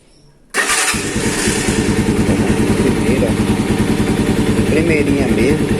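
A small motorcycle with a strange engine noise cranks and catches after a quiet moment, then settles into a loud, steady, close-up idle with a fast even putter.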